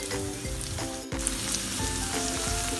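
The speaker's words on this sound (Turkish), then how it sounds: "Bununla da bir 30 saniye kadar sotelenmeye devam edecek" Steady crackling sizzle of garlic sautéing in a hot pan, continuous and fairly close, with no voices.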